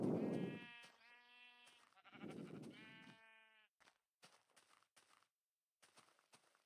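Two loud blocky sheep bleats from the Minecraft video game, each a long wavering cry, followed by scattered soft footstep taps with gaps of silence.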